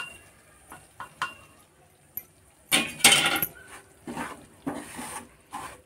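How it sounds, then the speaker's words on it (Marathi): Ragi (nachni) flour being roasted in ghee in a pan for nachni vadi, with a spoon scraping and stirring in bursts, one louder flurry midway, and soft clinks and pauses between strokes. "आता हे पीठ ह्याच्यातच भाजून घेणार आहे मी."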